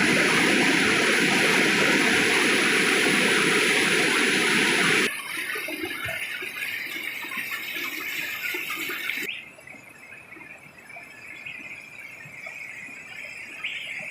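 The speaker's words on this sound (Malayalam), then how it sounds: "ഇങ്ങനെ വെള്ളം ഒഴുകി ഒഴുകി ഇവിടെ ഒരു ചെറിയ കുളം പോലെ തന്നെ ഇതിൻ്റെ ഇടയ്ക്ക് രൂപപ്പെട്ടിട്ടുണ്ട് ഭയങ്കര ശബ്ദമുണ്ട്" River water rushes over rocks into a small pool with a loud, constant roar up close that drops sharply in level twice as the listening position shifts farther away.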